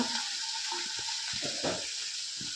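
Ginger sizzles and fries steadily in a hot pan for an egg and tomato curry, a continuous close crackling hiss with a few soft stirring scrapes throughout.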